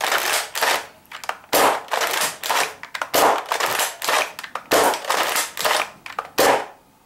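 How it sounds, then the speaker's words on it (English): Modified Nerf Slingfire blaster firing repeatedly, about nine sharp clacking shots with the slide racked between them, in a fairly regular rhythm, close and loud. "Now I'm going to show you the Sling Fire firing."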